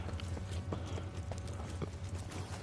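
Horses gallop in the video game Evil West, a steady run of hoof clip-clops over a low, constant hum of game ambience, moderately loud and without speech.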